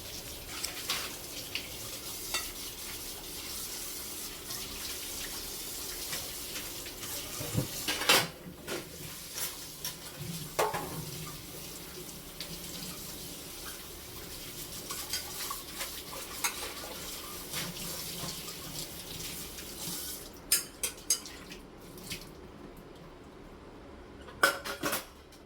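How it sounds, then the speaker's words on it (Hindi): Greasy dishes are washed by hand in a kitchen sink, with soft continuous water and scrubbing broken by occasional sharp clinks and knocks of utensils and pots, close and fairly quiet. "अब बारी आती है इन चिकनाई वाले बर्तनों को धोने की"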